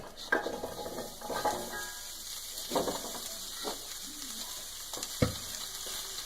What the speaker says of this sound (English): Let's see if we can get some sizzle vision going.